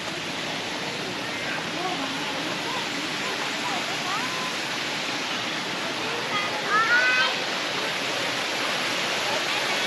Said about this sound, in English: That's a nice waterfall.